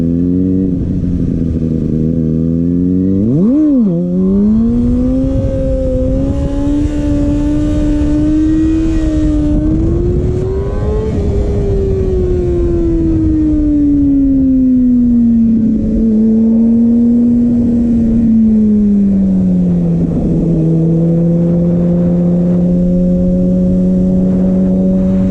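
Kawasaki ZX6R sport motorcycle revving hard through a rolling burnout, a loud, close, sustained engine whine that spikes, then rises and falls in pitch for over twenty seconds, with no speech.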